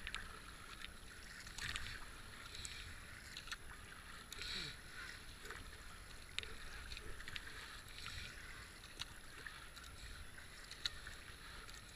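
Boats pass on the river at a racing event below a bridge, heard as faint, diffuse water and wind noise with scattered knocks and distant crowd sounds, fairly quiet throughout.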